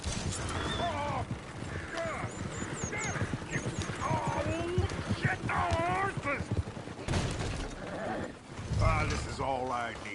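In the video game Red Dead Redemption 2, a horse-drawn coach clatters along with busy clip-clopping hooves and occasional neighs, mixed with gunfire and voices talking over it.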